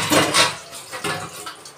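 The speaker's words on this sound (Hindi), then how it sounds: "बर्तन धुल लेते हैं फटाफट" Dishes, pots and utensils are washed by hand at a kitchen sink under running water, with close clattering of metal and splashing in a brief burst.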